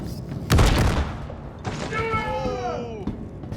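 A grenade explodes in a video game with a single heavy boom and rumbling burst, followed by someone talking.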